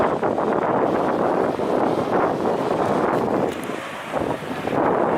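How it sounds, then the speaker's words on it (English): Strong wind on a hilltop in St Lucia buffets the microphone in a loud, continuous roar with slight surges and one brief dip, with no talk. "You feel the wind up here."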